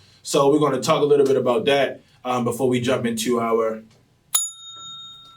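A single bright bell ring, like a bicycle bell, sounds once at the end to start a question segment on a talk show, following a man's speech.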